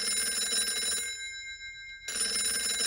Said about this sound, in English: let it ring. Let it go on ringing.